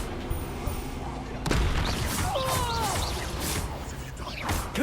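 A loud blast from the Confringo blasting curse in the video game Hogwarts Legacy, a sudden booming impact followed by a dense, rumbling roar of battle noise with whooshing and crackling effects, and a voice speaking over it.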